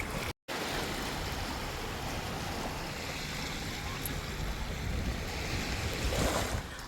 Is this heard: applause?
no